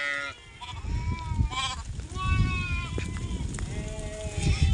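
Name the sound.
goats and sheep bleating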